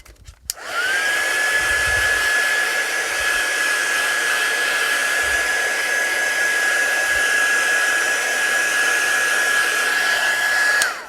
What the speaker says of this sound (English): have your heat tool ready to go as well